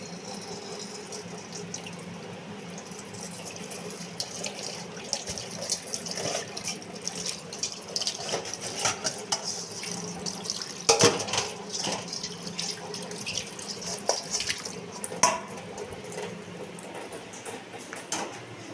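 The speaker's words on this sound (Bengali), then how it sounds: "ঢাকাটা একটু ধুয়ে নিই।" A pot lid is rinsed under a running kitchen tap, with a steady broad hiss of flowing water and occasional clinks and splashes as the lid shifts beneath the stream, close and continuous.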